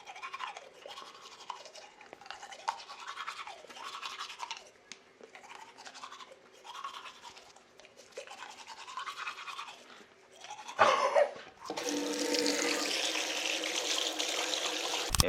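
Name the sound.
brushing teeth with a toothbrush at the sink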